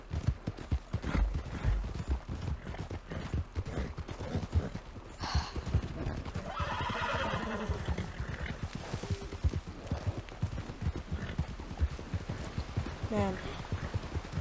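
Arabian horses in Red Dead Redemption 2 gallop with steady, fast clip-clopping hooves throughout, fairly close, with a brief whinny and people talking over the hoofbeats.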